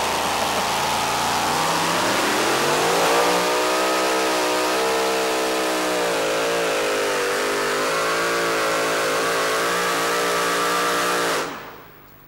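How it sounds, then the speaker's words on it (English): A loud 2WD pulling truck engine revs hard during a truck pull and holds a high, strained roar for several seconds, wavering in pitch before cutting off abruptly. "Back-to-back pulls for Will Teasley in the high tech."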